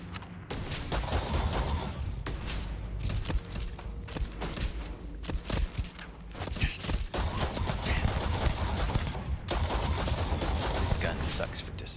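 Rapid bursts of gunfire from a gun in the video game Starfield, loud, dense repeated shots with brief gaps, close and continuous over the whole stretch.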